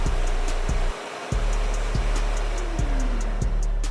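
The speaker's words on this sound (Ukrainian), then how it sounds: "пилосос ще декілька секунд пропрацював, щоб зібрати пил" Profter G501 construction vacuum cleaner runs with a steady loud whine and motor hum, briefly dipping once, with faint rhythmic ticking under the drone and no talk.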